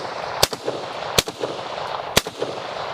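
A 12 gauge shotgun fired down range outdoors: three sharp, loud reports spaced about a second apart over steady background noise.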